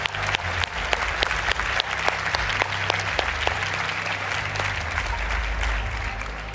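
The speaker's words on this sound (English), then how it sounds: "let's give them one final round of applause" An audience applauds volunteers at the close of a startup event's founder stage, a steady wash of clapping with sharp individual claps over a low musical bed, sustained throughout.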